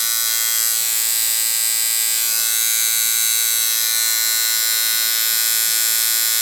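A Vlad Blad coil tattoo machine, a 5-liner, runs at 6 volts with a steady, close electric buzz, even and unbroken throughout with no voices.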